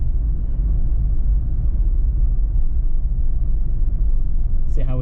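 A 2021 Jeep Wrangler Unlimited Rubicon 4xe cruises on electric power, giving a steady low road and tyre rumble with no engine note from start to finish; a brief high squeak is heard near the end.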